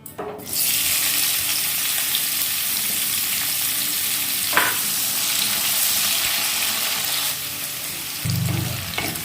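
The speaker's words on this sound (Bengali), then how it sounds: "এবার এতে কুচিয়ে রাখা পেঁয়াজগুলো দিয়ে দেব।" Chopped onions tipped into hot oil with dried chillies, frying with a loud steady sizzle throughout, a brief stir or clink midway and a low clatter near the end.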